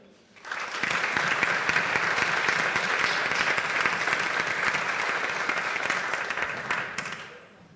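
An audience at a school board meeting applauds its teachers, a dense burst of clapping that rises quickly, holds steady for several seconds, then fades out.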